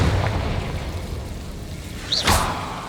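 A Confringo fire spell bursts in Hogwarts Legacy, a single whooshing blast with a rising swoosh near the end of a low rumbling game background, close and moderately loud.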